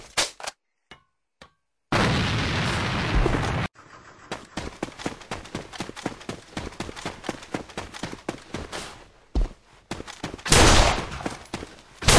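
Grenades thrown in the shooter A.V.A burst as two loud, roaring explosions, one early and one near the end, amid rapid bursts of close gunfire and short silent gaps.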